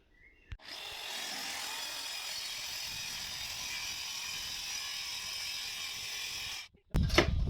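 Handsaw cutting through a composite laminated worktop in steady continuous strokes, a rasping scrape that runs several seconds before stopping, followed by a brief clatter.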